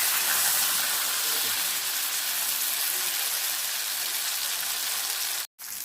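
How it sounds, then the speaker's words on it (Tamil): Jilebi fish, a tilapia, frying in hot oil at home, giving a loud, dense, unbroken hiss that cuts out for a moment near the end and then resumes. "இப்போ மீனை பொரிச்சிக்கலாம்"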